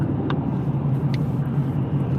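A car drives through road traffic, giving a steady low engine and tire rumble with a couple of brief higher squeaks.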